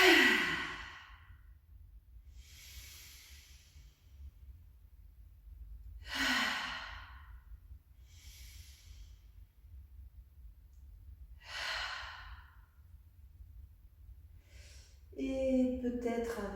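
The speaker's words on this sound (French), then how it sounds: "Puis prenez 3 profondes respirations." Three deep breaths during a sophrology relaxation session: slow, breathy exhalations spaced several seconds apart, close and soft over quiet room hiss, followed by a brief vocal sound at the end.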